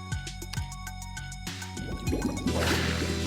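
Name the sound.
water sound as player enters water in video game Spectacle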